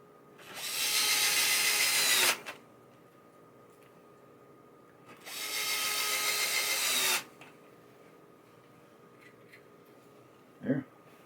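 A power drill drives screws into the wiring harness of a 1978 Bally Playboy pinball machine in two loud, close bursts of about two seconds each, separated by quiet, with a single knock near the end.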